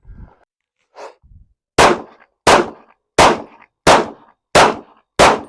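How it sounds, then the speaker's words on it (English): Handgun shots from a Glock and a Smith & Wesson M&P 2.0 on a range, six sharp cracks at an even, steady rhythm after a couple of soft clanks, loud and close. "Those shots sounded even"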